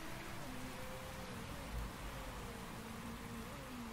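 Steady rain pours down on a race track in the management game Motorsport Manager, a dense, even hiss that runs unbroken from start to finish with no talk over it.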